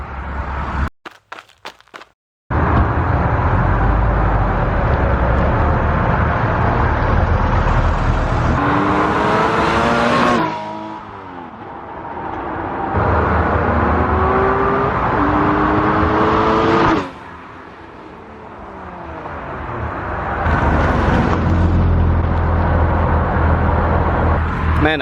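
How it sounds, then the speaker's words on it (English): A 2014 Porsche 981 Cayman S passes by, its exhaust note rising and falling in several sweeping engine surges that swell as the car nears and fade away, loud and close, without talk. "I'm going to get a quick flyby of the car so you guys can hear the exhaust."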